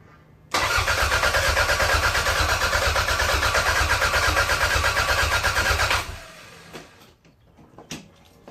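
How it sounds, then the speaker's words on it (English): A Toyota MR2 Turbo engine is turned over by the starter with its spark plugs out and the EFI fuse removed. It produces about five and a half seconds of loud, even, rhythmic cranking that never fires, then stops abruptly, leaving quiet clicks and rustles. "we'll just basically turn the engine"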